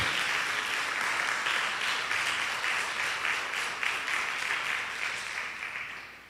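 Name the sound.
applause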